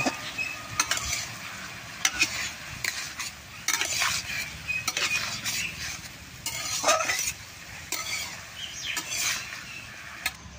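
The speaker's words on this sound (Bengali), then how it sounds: "এইটা এরকম করে নাইড়া চাইড়া মজিয়ে নেব।" Water fig pickle is stirred with sugar in a pan, with repeated scraping and clinking strokes of a utensil against metal over a soft sizzle, close up and irregular, with no talking.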